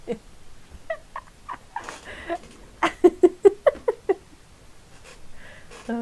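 A house cat purring in a run of about seven short rhythmic pulses near the listener, coming after a stretch of quiet indoor sounds and some faint soft noises.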